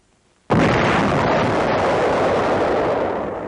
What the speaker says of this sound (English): Holding the piece in battery with one hand, the gunner pushes the firing button.